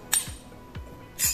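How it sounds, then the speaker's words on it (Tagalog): Plates and cutlery clink sharply in a few separate knocks while dishes are washed after a meal, close by with quiet gaps between each clatter. "After kong kumain is hugas lang ako ng mga plato."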